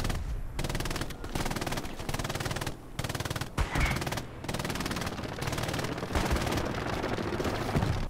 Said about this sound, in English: When you start taking fire